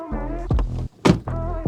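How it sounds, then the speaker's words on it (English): The door of a 2024 Force Gurkha SUV shuts with a single short, solid thud, set between steadier tonal sounds. "Listen to the door thud."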